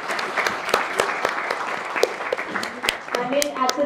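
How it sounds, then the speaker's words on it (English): A college audience at a talk in Kolkata gives a round of applause. The dense clapping runs throughout with a voice speaking over it, and a brief tonal sound appears near the end. "I like to put a round of applause to Phil Kantra for bringing him to Kolkata"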